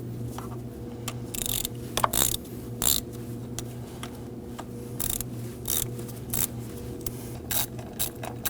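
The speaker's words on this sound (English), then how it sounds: "Removing these bolts, you want to only turn them one turn at a time each, going back and forth to slowly bring this up." A ratchet loosens the high-pressure fuel pump bolts on a 2009-2014 Ford F-150 3.5L V6, giving short bursts of close, crisp clicking separated by brief pauses in a quiet workspace.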